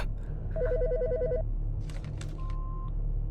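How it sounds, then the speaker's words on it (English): Telephone ringing in the video game Autopsy Simulator: an electronic warbling ring burst, followed by brief clicks and a short steady tone, heard alone over a low game room hum. "The fucking phone."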